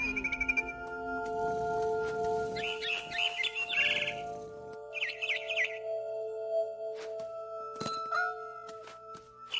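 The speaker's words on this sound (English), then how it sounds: "Then I heard chirping outside my window. It was a barn swallow going back to her nest." Several short barn swallow chirps ring out in bright bursts over steady synthetic tones and a soft background hum, with a few chime-like notes near the end, in the video game What Remains of Edith Finch.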